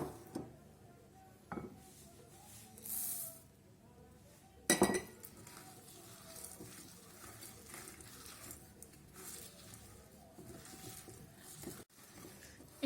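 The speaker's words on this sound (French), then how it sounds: "On continue de bien mélanger et on va pouvoir ajouter les pépites de chocolat." Cookie dough with chocolate chips is stirred in a bowl, quiet scraping with scattered light clinks and taps of the utensil against the bowl, irregular and close, with no talking.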